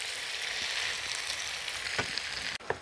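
Tomatoes fry in masala for stuffed squid, giving a steady, dense sizzle that goes on without a break. A few soft scrapes of stirring sound near the end, with no voices.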